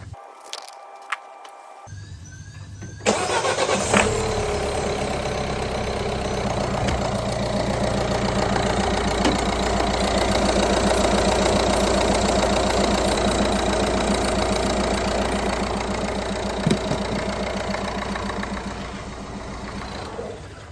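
Peugeot 308 1.6 HDI diesel engine cranking over and starting, then idling with a steady rumbling clatter, close by, with a new auxiliary belt and tensioner running.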